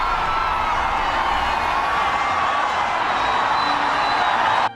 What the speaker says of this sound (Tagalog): you can hear the cheers from St. Peter's Square out there